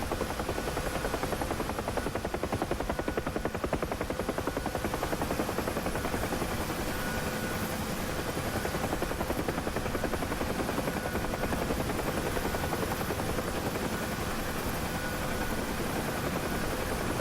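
A Bell UH-1 Huey helicopter in DCS flies over the Syria map with a steady, loud rotor thump and turbine whine that runs unbroken throughout, close and alone with no talk.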